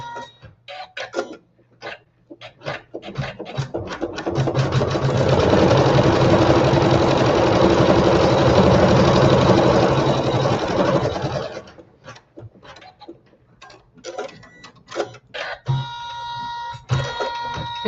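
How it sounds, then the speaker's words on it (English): Sewing machine stitching placement lines for quilt blossoms: start-stop clatter at first, then a loud, continuous, fast whirring run for several seconds close by, followed by more stop-and-go stitching and clicks. "this is just sewing the placement stitching for our blossoms that we will place later"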